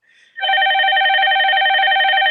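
A telephone rings loud and close, one steady electronic trill that starts after a faint lead-in and holds without a break, with no voices over it.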